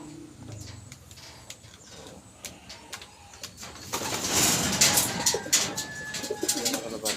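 Pigeons kept by a backyard breeder coo in soft low bursts, with the sound swelling and getting busier in the second half; a little background noise runs throughout.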